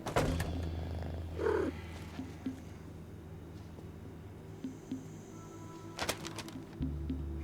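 A cat in the As Dusk Falls video game purrs in a low, steady, soft rumble, with a few faint clicks and thuds around it and no speech.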